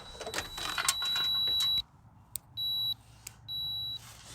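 A digital multimeter set to continuity mode gives sharp, steady electronic beeps each time the probes touch. A long tone is followed by two shorter ones, all loud and clear against faint handling noise.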